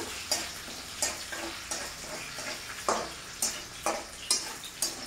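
Chopped raw garlic sizzles in hot oil while being stirred, a soft, steady frying hiss broken by regular scraping strokes of a utensil roughly every half second to second, quiet and close, with no voices.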